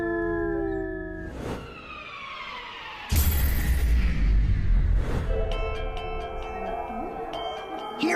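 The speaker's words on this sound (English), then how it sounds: "Here we see a gray wolf, one of the world's top predators." A gray wolf howls in long, wavering tones, joined partway through by a louder, denser burst of sound and then higher, steadier tones toward the end.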